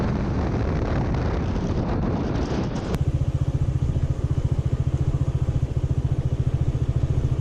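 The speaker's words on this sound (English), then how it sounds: "So we rented a motorbike" A rented motorbike climbs a hill, its engine a loud, close, pulsing drone under heavy wind buffeting, which drops away after about three seconds to leave the steady throb of the engine.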